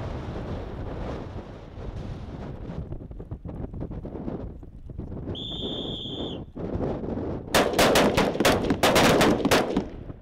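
Rifle fire during a military patrol shooting exercise at a defence forces training range, rapid bursts of close, loud shots near the end over steady wind noise buffeting the microphone.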